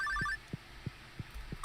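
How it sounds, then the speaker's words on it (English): Phone ringing in the farming video game Stardew Valley, a soft repeating electronic ring over a steady low pulsing thump, faint and without talk. "Oh, phone's ringing."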